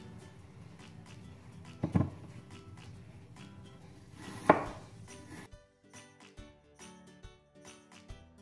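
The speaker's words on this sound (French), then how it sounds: "On va commencer à éplucher les pommes et à les couper en lamelles." A knife cuts peeled apples into thin slices on a board, making a few soft thuds followed by a run of light, regular cutting taps toward the end.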